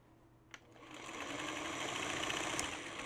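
A sewing machine back-stitching fabric during a sewing session starts after a brief click and runs as a steady, even mechanical whir for a couple of seconds, quiet and close with no talking.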